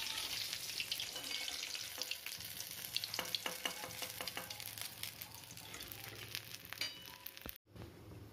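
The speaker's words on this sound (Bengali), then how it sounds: "ওই একই প্রসেসে বাকি পমফ্রেট মাছগুলোকে ব্যাটারে ডুবিয়ে ফ্রাই করে নিচ্ছি" Battered pomfret fish fries in hot oil with dense, crackling spatter and popping bubbles close by. The sizzle continues until a brief clunk near the end.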